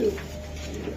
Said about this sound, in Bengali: প্রতিটা কবুতর দেখেন।